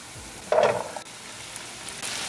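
Beef hitting a pan of masala and tadka, a sudden close burst of sizzle that settles into a softer, quieter fry with faint stirring clicks.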